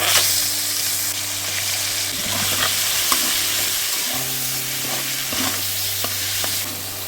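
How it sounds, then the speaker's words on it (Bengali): Washed prawns with salt and turmeric fry in hot oil in a wok, giving a loud, dense, continuous sizzle close up with faint stirring scrapes. "ধুয়ে রাখা চিংড়ি মাছগুলো দিয়ে দিচ্ছি।"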